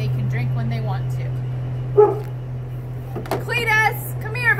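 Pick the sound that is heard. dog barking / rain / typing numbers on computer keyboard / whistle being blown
dog barking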